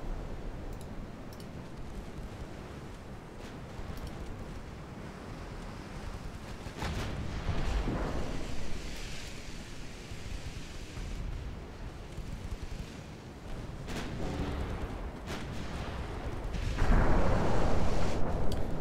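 Heavy warship guns firing high explosive shells in a dreadnought-era naval video game, distant rumbling booms and crackling blasts scattered across a long, fairly quiet stretch, with a louder burst of explosions near the end.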